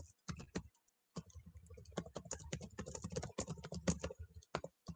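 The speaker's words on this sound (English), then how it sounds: "Steve, you there? I hear you typing." Computer keyboard typing comes through voice chat during an online tabletop Dungeons & Dragons session: rapid, close clicking keystrokes in dense bursts, with one brief pause near the start.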